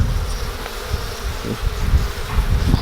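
Honey bees buzz continuously around an open hive during an inspection. The drone is dense and close, with individual bees swelling louder as they pass near.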